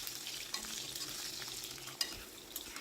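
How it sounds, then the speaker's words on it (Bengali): Cut potatoes frying with five-spice tempering in a pan, a steady low sizzle with faint scraping and one small clack as they are stirred, quiet and close with no voices. "আলুটাকে মোটামুটি ওই 2 মিনিট মতো হালকা করে ভেজে নেব।"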